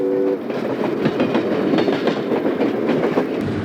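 A Conrail train runs on the old Erie line at Olean, New York, its engines painted Pullman green, with a loud, close, steady rumble and rhythmic rail clatter continuing throughout, opening with a brief horn tone.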